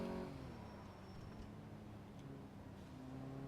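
A car drives in the video game Car Mechanic Simulator 2014, a faint, steady engine drone with a smooth tonal hum and no sharp changes.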